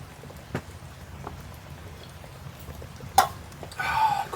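Rain falls outside a rustic 100-year-old shelter at a remote campsite, a steady patter with scattered drips, a louder knock near the middle and a brief swell of noise at the end.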